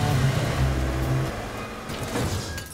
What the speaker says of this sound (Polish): Wyjadę autem tutaj